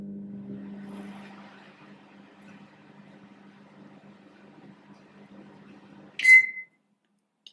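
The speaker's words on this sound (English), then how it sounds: "Let's go to the microwave." A microwave oven hums low and steady, droning quietly for several seconds, then a short bright beep sounds and the hum stops.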